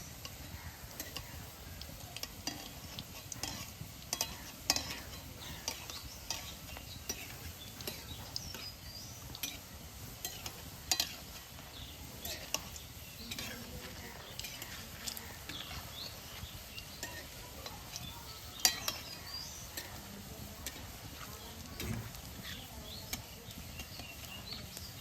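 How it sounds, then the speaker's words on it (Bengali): Bread-based gulab jamun frying in hot oil until reddish, giving a soft, steady sizzle with scattered small crackles and pops throughout, with no voices. "বন্ধুরা গোলাপ জামুনটা ভাজা হয়েছে গা, লাল লাল করে ভেজে নিছি"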